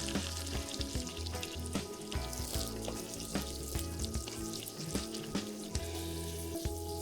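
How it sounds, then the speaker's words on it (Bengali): Chopped onions fry in hot oil in a pot and are stirred while cooking for a prawn pulao. A steady close sizzle runs throughout, with scraping and stirring clatter over it and no voices. "এবার এতে দেড় কাপ পেঁয়াজ কুচি দিয়ে দেবো এবং মাঝারি আছে নেড়ে চেড়ে ভেজে নেব"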